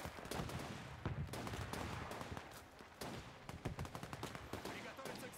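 Machine-gun fire from a vehicle in a WWII strategy game's Russian defence mission, distant rapid staccato bursts mixed with scattered rifle shots and steady battle noise.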